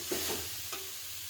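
Mutikayalu fry in a pan with ginger-garlic paste, giving a soft continuous sizzle with a couple of faint stirring scrapes in a short, quiet stretch.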